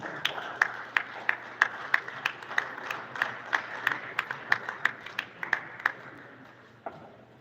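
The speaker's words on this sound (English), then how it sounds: "Let's clap for the next speaker," Audience applause at a school student-presentation event, starting moderately loud and growing into a broad, steady clapping crowd, then trailing off near the end, with a few sharper individual claps standing out over a low hum.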